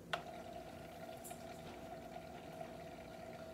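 Tap water with a few drops of dish soap bubbles inside a jellyfish mood lamp, a faint continuous gurgling with a steady low pump hum, close and quiet, with no talking.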